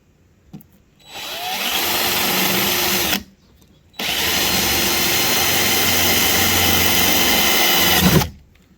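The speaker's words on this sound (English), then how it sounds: "and then I'll drill a hole" A power drill runs loudly in two long, steady bursts drilling holes for cab lights on a Ford Super Duty F-250, brief pause between, its high whine constant throughout each run.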